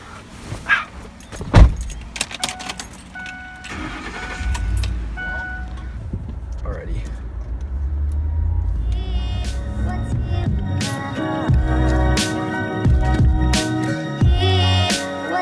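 A car engine starts and runs steadily at close range, with keys jangling and car-door handling noises around it.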